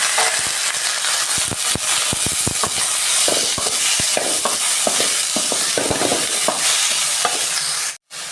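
Chopped ingredients are sautéed in a pan for mudavattukal soup, producing a loud, crackling sizzle broken by irregular spatula scrapes and stirring knocks. The sound cuts out briefly near the end.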